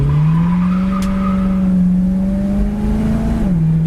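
A 1965 Ford Mustang convertible with a 289 V8 and automatic transmission drives along, the engine drone loud and steady from inside the car, the pitch rising slightly then dropping near the end as it shifts.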